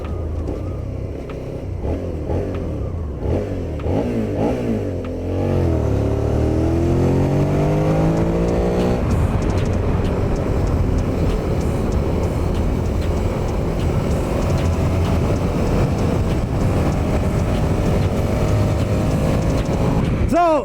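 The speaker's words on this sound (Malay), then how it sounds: "Exhaust note dia merdu gila." A Suzuki 650 motorcycle rides on a highway, its exhaust droning steadily and loudly with rising and falling pitch sweeps as it accelerates and shifts, heavy wind rush underneath and a rider occasionally speaking.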